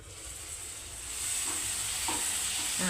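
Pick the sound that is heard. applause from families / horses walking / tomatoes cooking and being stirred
tomatoes cooking and being stirred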